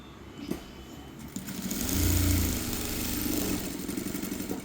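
A sewing machine runs a stitch along the side seam of a child's uniform frock. The motor whirs up in a short burst and then settles into a buzzing run, close to the listener.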